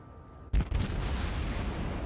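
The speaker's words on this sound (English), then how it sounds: "I shoot that volley and quickly switch to AP" An Atago heavy cruiser fires a high-explosive volley in the naval game World of Warships, a sudden loud boom followed by a rolling, rumbling report that carries on to the end.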